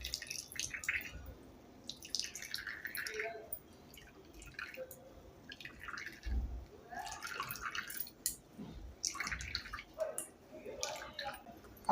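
Freshly ground coconut mixture for Malvani sol kadhi is squeezed by hand and strained, giving soft wet squishes and intermittent close drips and trickles of coconut milk, quiet and irregular.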